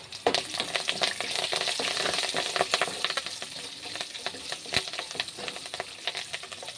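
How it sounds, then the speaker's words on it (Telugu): Green chillies and curry leaves frying in hot oil for a tomato rice dish, with a steady bright sizzle and repeated scraping stirs of a spoon against the pan, close and continuous with no talking. "ఇలా కలిపేసుకొని ఇందులోనే కరివేపాకు వేసుకోండి"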